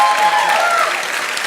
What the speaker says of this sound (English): let's give Jamie a round of applause